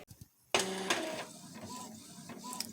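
A printer runs a sublimation design job, starting abruptly after a few faint sounds and continuing with mechanical whirring and intermittent whines from the print head moving back and forth.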